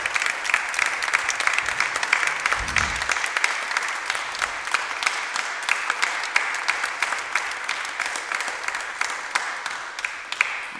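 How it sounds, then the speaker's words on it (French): An audience applauds warmly during an interview event. Dense, even clapping carries on strongly for about eleven seconds without a break. "Je t'applaudis, Emily."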